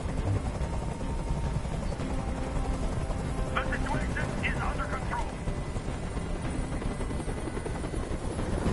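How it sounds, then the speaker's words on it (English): Helicopter hovering overhead in the video game Detroit: Become Human, a steady whirring rotor drone running throughout under a man's speech. "I can't stand that noise anymore. Tell that helicopter to get out of here."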